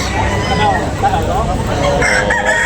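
A rooster crows at a Filipino gamefowl sale, its cock-a-doodle-doo ringing out more than once over steady crowd babble and background chatter.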